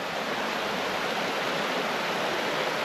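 A waterfall in the Gerês mountains of Portugal pours with a loud, steady rushing roar, close and unbroken throughout, with no voices.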